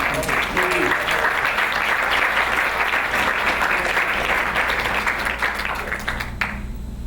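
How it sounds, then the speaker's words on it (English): Sustained applause from an audience at an arts school event featuring John Akomfrah, a dense continuous roar of clapping that stays strong for about six seconds before tapering off abruptly. "One more round of applause for John."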